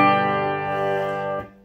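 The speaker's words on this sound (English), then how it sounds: "Playing my single coil American Strat into my Fender Twin Reverb at 10, volume at 10." A single-coil American Fender Stratocaster played through effects pedals into a Fender Twin Reverb at full volume rings out in a loud sustained chord that decays, then cuts off near the end.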